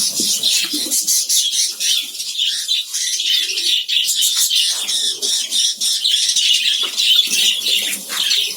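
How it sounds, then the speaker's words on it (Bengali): A colony of budgerigars keeps fluttering about, wings flapping in repeated bursts mixed with scattered chirps and soft calls, fairly loud and continuous with no talking. "দেখেন এক জায়গায় পাখিগুলো কোনোভাবেই থামতে চাচ্ছে না একদিক থেকে আর একদিকে ছোটাছুটি করতেছে"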